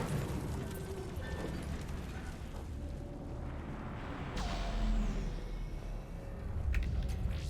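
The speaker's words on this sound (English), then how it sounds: "They make explosions!" Explosions in Mass Effect 3 roll out as a sustained heavy roar with a deep booming swell midway and another near the end, loud and dense with no speech.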